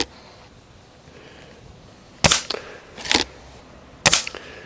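A toy gun fires three sharp shots at a target, spaced about a second apart over quiet room tone, each a crisp snap with a short rattle after.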